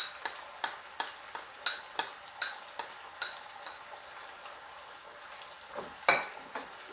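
Soy sauce, mirin and oligosaccharide syrup being mixed in a small bowl, giving a steady run of light clinking taps about every third of a second, close and clear, slowing toward the end with a sharper knock near the finish.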